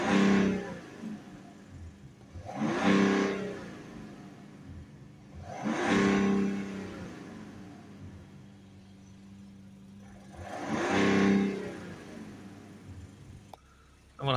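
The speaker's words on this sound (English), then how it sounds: "I'm going to give the car some revs." A BMW 335d diesel engine with a particulate filter exhaust back pressure fault is revved four times, each rise swelling to a rough, loud peak before dropping back to a low idle.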